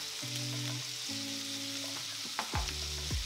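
Wild duck breast (magret) cooks in a pan with a quiet, steady sizzle beneath a few faint tonal hums and a couple of short knocks, close but low in level.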